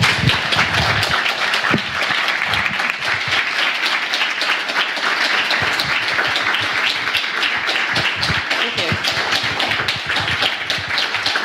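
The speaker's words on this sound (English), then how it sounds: "Wow. Lots of applause." Sustained applause from a live audience at the close of a talk at a Radical Networks event, dense overlapping clapping that stays loud and even throughout without any voices.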